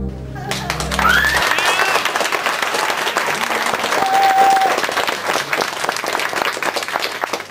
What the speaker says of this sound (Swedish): De applåderar för allihopa.